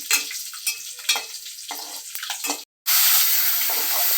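Curry leaves dropped into hot oil, bursts of crackling sizzle and spatter with stirring, then after a brief cut a loud, steady hiss of frying, close and with no voices.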